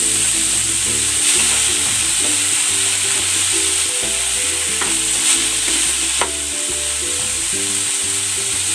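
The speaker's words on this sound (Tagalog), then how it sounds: "Maglalagay ako ng patis" Chicken pieces sizzle steadily in a hot pan as fish sauce goes in, a loud continuous hiss with scraping stirs and an occasional sharp clink against the pan.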